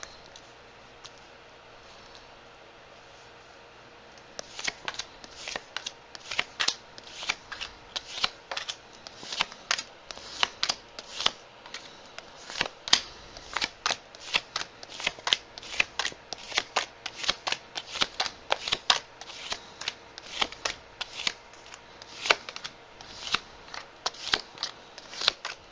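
Tarot cards being shuffled, handled and laid down on a surface, a steady run of close, crisp snapping and flicking after a few quiet seconds, with no talking.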